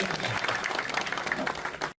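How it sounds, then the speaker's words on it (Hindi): An audience at a Bharatiya Kisan Union farmers' meeting claps in a dense burst of applause that continues steadily and then cuts off abruptly. "इनके लिए मैं चाहूंगा एक बार ताली बजाकर इनका स्वागत"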